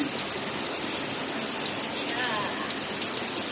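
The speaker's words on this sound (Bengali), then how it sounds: "হঠাৎ করে কিরকম ঝেপে বৃষ্টি, হ্যাঁ ঝেপে বৃষ্টি নেমে গেছে হঠাৎ করে।" A sudden heavy downpour pours down in a dense, steady hiss that stays close and unbroken throughout.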